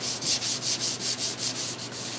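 Rhythmic back-and-forth rubbing as a car door is block sanded with a flat rubber squeegee, about nine even strokes in a steady close-up rasp with no talk.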